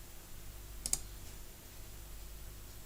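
A computer mouse gives a quick, faint double click on a stop button, isolated against a quiet room hum.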